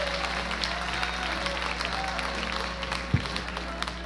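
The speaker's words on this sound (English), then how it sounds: "give a round of applause now for your MC" An audience at a comedy workshop graduation show applauds the evening's host and MC, a steady wash of clapping from a crowd with some murmuring underneath, moderately distant and continuous.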